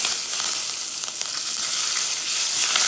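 Hot oil sizzles and splatters steadily while frying ingredients golden brown for ennai kathirikai kuzhambu, a dense, continuous crackle close by with no talk over it.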